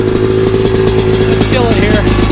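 A Yamaha YZ250 two-stroke dirt bike engine runs close and loud with a fast, buzzing, rattly idle that rises briefly, and a voice speaks over it.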